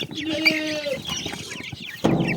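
A grey hen clucks and calls close by in a farmyard with chickens and roosters, followed by a sudden louder flurry near the end.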